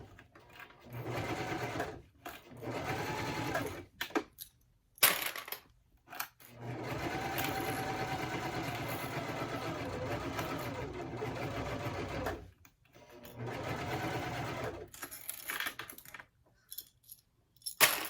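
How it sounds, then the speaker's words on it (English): A domestic sewing machine stitches around a blue bowler bag in several steady, close bursts of rapid mechanical whirring, separated by short pauses and a few clicks. "And just sew all the way around."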